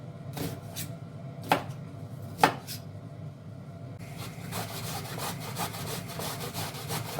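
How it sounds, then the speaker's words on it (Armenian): A knife chops onion on a cutting board: a few sharp, separate taps, then a steady, dense stream of rapid cutting and scraping, close and alone. "Հիմա սոխը կմանրացնեմ"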